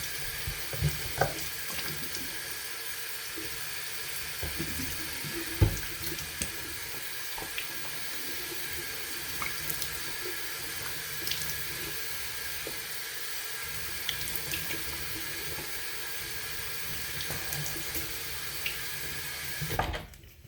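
Water runs steadily from a bathroom tap into a sink while someone rinses their face, a continuous close hiss with small splashes from the hands, with no talking.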